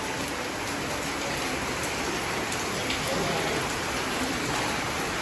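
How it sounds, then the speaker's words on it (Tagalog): Steady rain patters and hisses continuously on surfaces nearby, with no voices over it. "Blessing ang ulan."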